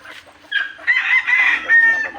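Backyard chickens cluck and a rooster crows in a short, close, strained call, with no talking.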